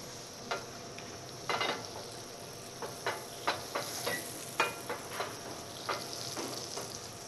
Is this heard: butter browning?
yes